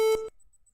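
A sustained synth tone run through a gated reverb effect in LMMS sounds briefly, then is abruptly chopped off after about a third of a second, leaving only a faint residual hiss.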